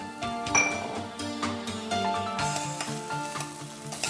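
Ginger pieces frying in a pan with a bright sizzle, stirred with clinks of a utensil against the pan over a steady hiss.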